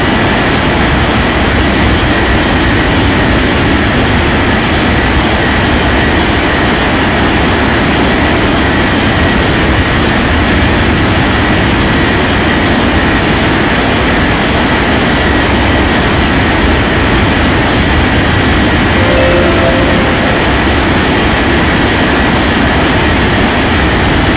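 An airliner takes off in the airport control game White Center, with a loud, steady, broadband engine roar that holds unchanged throughout, close and continuous, with no voices over it.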